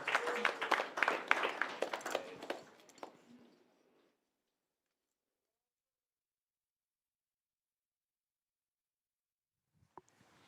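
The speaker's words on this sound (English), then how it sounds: "one big round of applause one more time for your APT Championship Main Event final table" A crowd at a poker championship main event final table gives a round of applause, dense clapping that fades out over about four seconds into silence, with one faint isolated clap near the end.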